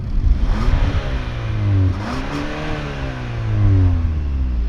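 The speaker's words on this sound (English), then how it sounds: "since this is an N line, we should listen to the exhaust" Exhaust note of a 2021 Hyundai Sonata N Line with a non-valved exhaust, heard from outside: a steady engine drone that rises and falls through two rev blips, moderately loud and subtle in tone, with no talking.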